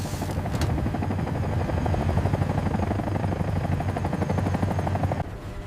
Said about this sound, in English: special operations teams fast roped from hovering helicopters directly onto the tanker's deck.